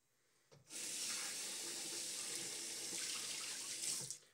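Water runs from a tap in a steady, close, hissing stream that starts abruptly and stops after several seconds, with no talking.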